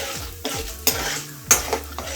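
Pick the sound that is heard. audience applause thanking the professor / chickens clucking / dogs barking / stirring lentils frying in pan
stirring lentils frying in pan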